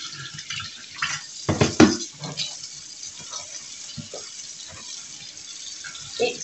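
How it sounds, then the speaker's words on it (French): Dish racks being emptied at a kitchen sink, with several sharp clattering knocks of dishes clustered in the middle, softer clinks scattered throughout and a faint background of running water. "Donc là, je vide les grilles. Les grilles de l'évier."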